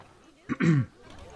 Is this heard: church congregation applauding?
no